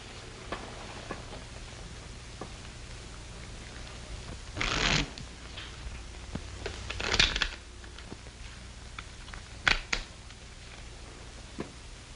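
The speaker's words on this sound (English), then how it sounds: "Shuffle and deal." Playing cards being shuffled and dealt at a card table in a 1939 Western: a few brisk riffling bursts stand out over a quiet room, with scattered soft ticks and flicks between them.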